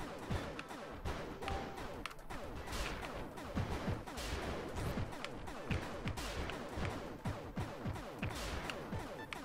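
Rapid, steady gunfire from a small robot's weapons in the Good Robot shooter game, a dense stream of punchy shots with crashing impacts running continuously at close range with no talking.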